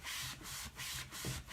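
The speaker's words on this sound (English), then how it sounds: "the board erasers are something you can get in the shop, and it's just a microfiber scrubber." Quiet, close scrubbing of a microfiber board eraser rubbing chalk off a board, in several short back-and-forth strokes with brief pauses between them.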